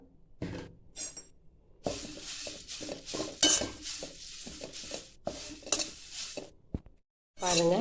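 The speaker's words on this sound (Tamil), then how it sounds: "மீதம் இருக்க முருங்கைக்கீரையும் நம்ம போட்டு அப்படியே வறுத்து எடுத்துக்கலாம்" Moringa leaves are dry roasted in a pan for idli podi. A metal spoon clatters and scrapes against the pan in irregular bursts between pauses, with some brief speech in the middle.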